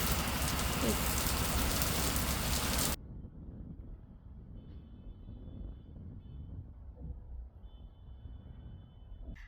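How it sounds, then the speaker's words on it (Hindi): Heavy rain in Nainital pours loudly for the first few seconds, then cuts to a quieter steady patter with a faint high hum in the background. "भाई बहुत ज़ोर से बारिश है"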